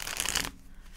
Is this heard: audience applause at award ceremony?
no